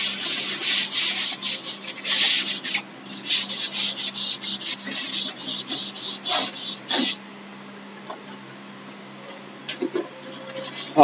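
Rapid back-and-forth rubbing of a board eraser wiping writing off a board in a maths lecture, a dense run of scratchy strokes for about seven seconds, then quieter scattered sounds, close and without speech.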